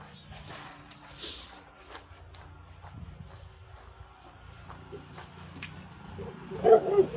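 A puppy yips and whimpers, mostly faint and distant across a quiet room, before a few louder, closer barks near the end.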